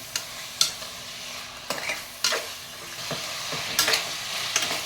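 Mutton sautéing in oil in a pan for mutton kuzhambu, a steady close sizzle broken by sharp scraping stirs at irregular intervals, with no voices.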